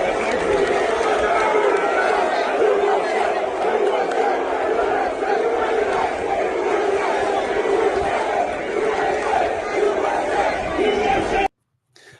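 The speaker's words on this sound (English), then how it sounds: "The crowd starts chanting USA, USA, USA." A golf crowd chants USA in a loud, dense wall of massed voices with rhythmic shouting, sustained for about eleven seconds before cutting off abruptly.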